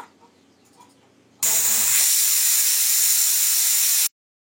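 After a few quiet clinks, a pressure cooker whistle bursts into a loud, steady hiss of escaping steam that lasts several seconds, then cuts off abruptly.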